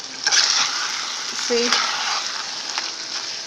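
Flour stirred into sizzling Nigerian meat pie filling in a pan, a steady frying hiss with a few soft scraping and stirring sounds throughout, no talking.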